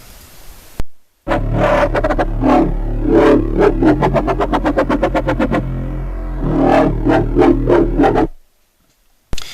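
A loud synthesized dubstep bass made in FL Studio wobbles and stutters alone, its rapid rhythmic pulses speeding up and slowing before cutting off abruptly.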